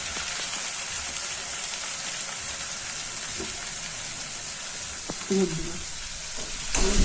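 Soybean and meat curry with green chillies, chilli powder and turmeric sizzling loudly in a pan as it is stirred, a dense continuous fry with a few scraping knocks from the spoon near the end.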